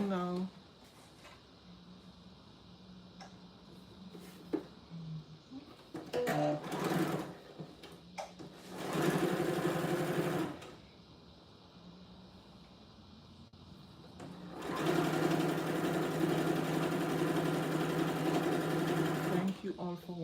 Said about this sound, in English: Let me start sewing now.